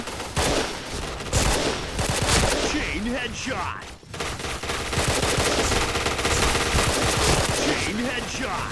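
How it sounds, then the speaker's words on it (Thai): The K2C EBR rifle fires in the Point Blank online shooter, with rapid, dense bursts of loud gunfire running almost continuously, broken by a brief pause midway, while a player talks over the shots. "ปืนนี้นะถ้ายิงโดนอ่ะมันแรงมาก ๆ ครับ"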